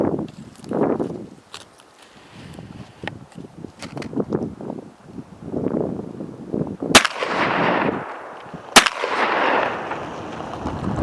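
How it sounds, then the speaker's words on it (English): A Mossberg 930 JM Pro shotgun fires slugs at a target about 30 yards away, two sharp, loud blasts a couple of seconds apart, with quieter shuffling and handling sounds before them. "see what kind of accuracy I can get with the shotgun and slug from about 30"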